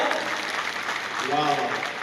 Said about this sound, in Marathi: सगळ्या शिक्षकांसाठी वाजवा जोरात.